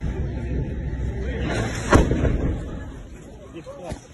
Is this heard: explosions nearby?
yes